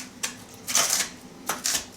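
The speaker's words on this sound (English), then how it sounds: "crunch up all my bacon" Crispy cooked bacon is crunched and crumbled by hand for a crock pot bacon cheeseburger soup, giving a few close, dry crackling bursts separated by brief pauses.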